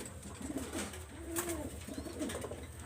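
A pigeon coos in a soft, low, rolling series of throaty calls, repeated several times at close range over faint background hiss, with no voices.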